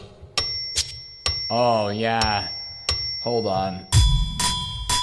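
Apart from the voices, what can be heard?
cash register sound effect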